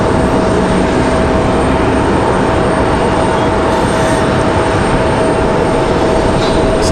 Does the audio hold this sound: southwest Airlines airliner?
yes